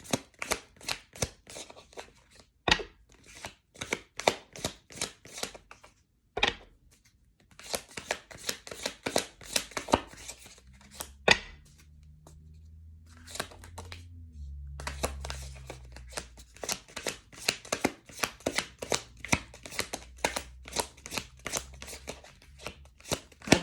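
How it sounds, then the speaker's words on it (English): A tarot deck being shuffled by hand, repeated crisp riffling card flutters in quick bursts with brief pauses, close and fairly loud, with a low hum underneath in the middle stretch. "I've already pre-shuffled the deck."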